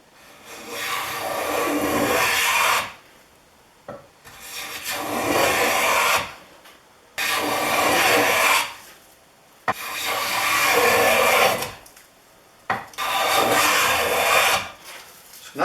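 An 1869 Stanley No. 22 wooden hand plane shaves a walnut board held in a vise, making five long, loud, rasping strokes, each followed by a brief pause.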